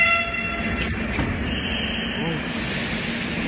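A metro train runs along the track, heard from inside the carriage as a steady rumbling roar with a high electric whine fading early on, and a person talking faintly over it.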